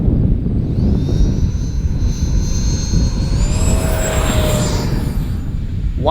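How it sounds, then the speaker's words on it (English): A Freewing L-39 Albatros RC jet takes off in gusty wind, its electric ducted fan whining steadily and rising in pitch over loud, constant wind rumble, close to the microphone. "I'm gonna go for a low rate takeoff this time and see what I get."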